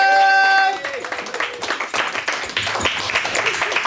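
An audience at a London stand-up comedy show breaks into applause and cheers for a comedian. The clapping is dense and sustained and follows a host's loud shout.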